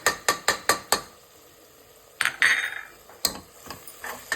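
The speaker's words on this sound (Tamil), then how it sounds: "இதெல்லாம் போட்டு இதில் கிளறணும்" A metal spoon works garam masala, biryani masala and pepper powder into goat liver biryani masala in a pan: a quick series of sharp clanks, then a scraping stir with a faint sizzle, then a few more taps.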